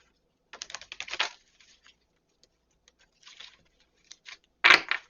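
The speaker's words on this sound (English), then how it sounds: "we'll get this other deck shuffled up" A tarot deck is shuffled on a tablecloth, giving short papery riffles and taps in quick bursts separated by quiet pauses, ending in one louder flurry close by.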